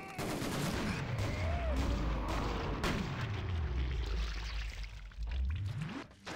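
Steyr AUG A1 rifle fire in the Killing Floor shooter game, heavy booming shots and bursts layered over a continuous loud roar, with low rumbling sweeps and no gaps between sounds.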